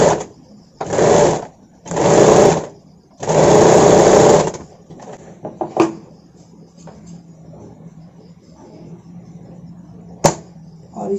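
A sewing machine stitching a blouse runs in three loud bursts, the last one longest, followed by quiet handling clicks and a brief sharp tap.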